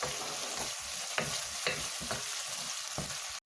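Cinnamon stick, cloves, cardamom and star anise sautéing in a pan for mutton soup, giving a loud continuous sizzle broken by regular stirring scrapes before cutting off abruptly at the end.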